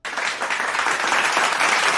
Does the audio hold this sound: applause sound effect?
yes